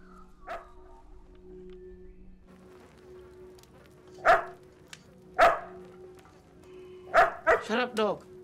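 A dog in a dramatic film scene gives a few sharp barks in a cluster, moderately close and interspersed with quieter background, ending in a quick run of yips.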